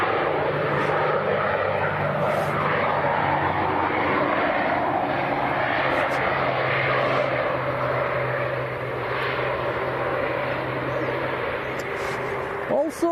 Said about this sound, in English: So this is the Aer Lingus from Belfast, just about to touch down. ATR 72.